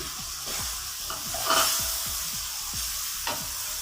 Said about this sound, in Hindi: अभी मैं इसमें ऐड करूँगी मटर